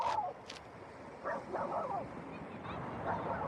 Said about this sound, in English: God knows what she's barking at.